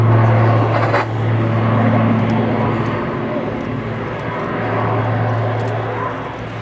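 Airbus A400M Atlas military transport aircraft making a very slow touchdown at an air show, a loud steady turboprop drone with a strong low hum that dips briefly and then swells again.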